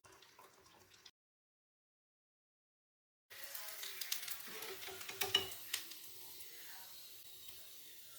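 Sago vadam frying in hot oil, a soft hiss that breaks off into silence for a couple of seconds, then returns louder as a close, crackling sizzle with scattered pops.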